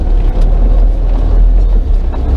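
A heavy Yuchai diesel engine in a loader, with a newly installed injection pump, rumbles steadily at idle, a deep continuous drone close by with no voices.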